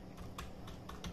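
Field names being typed into MS Access 2007 on a computer keyboard, a few close, quiet key clicks at an uneven pace with no voices.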